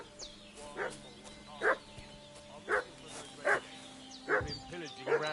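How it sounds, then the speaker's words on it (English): In the medieval video game Kingdom Come: Deliverance 2, a dog barks six times at a steady pace, each bark sharp and a little distant, over faint ambient sound. "What's that dog making such a fuss about?"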